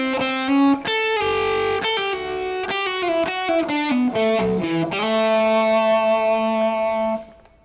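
An electric guitar with light effects slowly plays a blues shuffle lick, with distinct picked notes, bends and slides before ending on a long sustained note that fades out. The guitar is clear and up front, with no talking.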